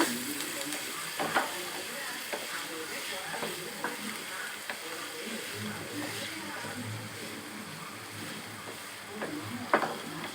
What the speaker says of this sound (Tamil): நல்லா கோல்டன் ப்ரௌன் ஆகிற வரைக்கும் நல்லா மிக்ஸ் பண்ணிக்கோங்க